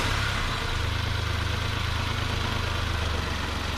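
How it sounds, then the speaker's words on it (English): A 2012 Nissan Versa with a rough idle runs at a steady, low engine idle close by, a continuous even drone with no voices. "So I'm gonna start the engine again."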